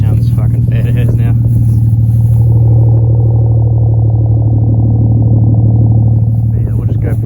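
A Ford Falcon engine with a resonator-deleted exhaust idles as a loud, deep, steady rumble with a strong low drone. A few faint higher clattery sounds come at the start and near the end.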